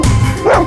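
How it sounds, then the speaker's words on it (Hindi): A dog barks once or twice up close, a short loud yelp at the end of a brief burst, with no talk over it. "बार बार उस तरफ मुंह करके भौंक क्यों रहा है?"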